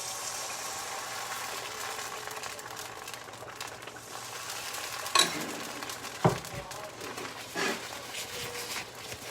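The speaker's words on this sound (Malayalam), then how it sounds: "അപ്പം നമുക്ക് അടുത്ത സ്റ്റെപ്പ് അപ്പത്തിൻ്റെ മാവ് ഒഴിച്ചു കൊടുക്കാം." Appam batter hitting a hot pan in a home kitchen, a continuous soft sizzle with a few sharp scraping and clinking accents from utensils on the pan.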